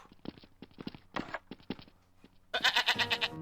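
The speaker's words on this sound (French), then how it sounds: "Une chèvre est entrée illégalement dans la cité" A goat bleats loudly in Garry's Mod, a wavering, pulsing cry near the end that follows a run of light footstep-like taps and thuds.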